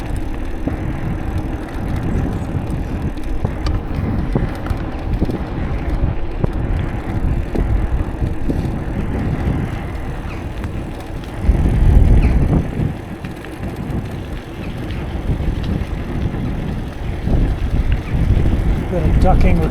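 A bicycle fitted with seat post suspension rides over a very bumpy, rough pathway, giving a steady rumbling rattle with wind buffeting throughout and a louder jolt near the middle.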